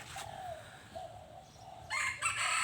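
A Thai game-fowl rooster of the Thero Kwad Lan type crows close by in one short, drawn-out call, followed by brief clucking over faint background noise.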